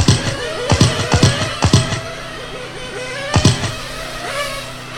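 Race cars at a charity benefit race sound in a series of sharp, close passes, several bursts in quick succession and another a little later, with engine noise lingering in between.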